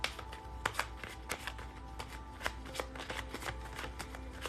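Tarot cards are shuffled in a dense, steady riffling patter with sharper slaps and taps scattered throughout, close by and without talk.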